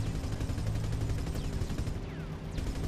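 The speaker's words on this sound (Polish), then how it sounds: "Strzały świstają mi koło głowy." Dense, continuous gunfire from aerial combat in the flight game Combat Wings, loud and unbroken for about three seconds with a low rumble beneath and occasional whistling passes overhead.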